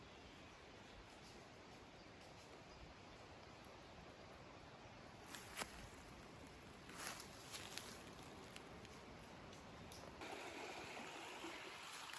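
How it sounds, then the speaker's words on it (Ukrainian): A steady, quiet rush of a river flowing through forest in Bukovina, Ukraine runs throughout, with a few faint rustles and soft steps nearby. "Тут у нас річка тече і такий ліс."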